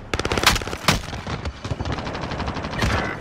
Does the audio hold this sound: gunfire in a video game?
yes